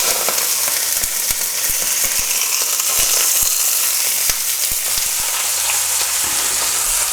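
Lamb shanks seasoned with salt and pepper searing in a pan, a loud, steady close-up sizzle with scattered sharp pops and crackles throughout, no talking.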